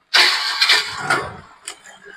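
A used motorbike's engine catches on the self-starter in one quick crank, then settles into a brief close, loud idle.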